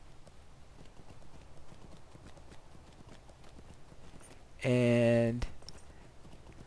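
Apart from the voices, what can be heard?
goat mount hooves clopping in Lord of the Rings Online video game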